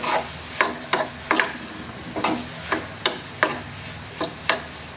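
Coriander leaves being stirred into a samosa potato filling, a series of about ten crisp spoon taps and scrapes against the pan at an uneven pace, with faint low sizzling beneath.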